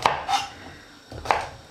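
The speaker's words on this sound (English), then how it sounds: "cut your celery into bits" A knife chops celery on a cutting board for a stock in which a Christmas ham is cooked: three crisp, separate chops with short pauses between, close and clear, with no talk.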